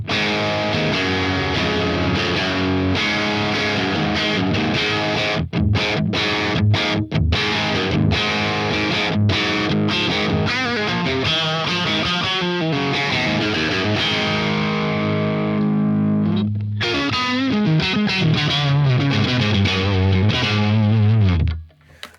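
A heavily distorted electric guitar plays through a Marshall JVM 410H amp with the mids and treble turned up. Dense chords and riffs are broken by short stops, and the playing ends abruptly after about twenty seconds.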